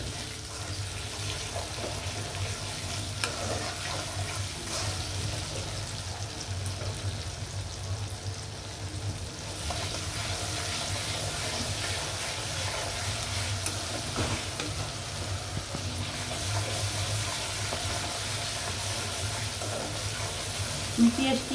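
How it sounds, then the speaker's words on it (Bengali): Onions frying with salt in a pan produce a continuous loud sizzle with scraping stirs throughout, close up and sustained over a long stretch, with occasional faint speech in the background. "লবণটা দিলে পেঁয়াজটা ভাজা ভালো হয়, রান্নাটা ভালো হয়"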